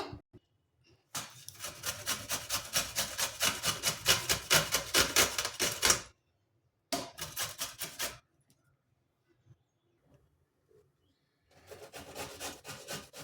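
Peeled raw green mango rubbed against a hand grater, giving long runs of quick rhythmic rasping strokes, close and fairly loud, broken by pauses of silence and resuming near the end.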